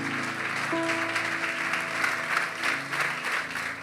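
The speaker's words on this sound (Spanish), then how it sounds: "Dale un aplauso al Señor." Congregation applause at a church service, a sustained wash of clapping from many people, layered over soft sustained background music.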